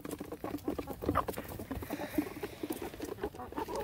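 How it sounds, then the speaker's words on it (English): Rapid, irregular pecking taps patter close by, a busy scatter of small clicks and knocks with no talking. "I don't know if you guys can hear that pecking sound."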